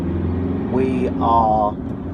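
Steady engine drone and road rumble from inside a car driving into North London, continuous throughout, with a voice briefly speaking over it.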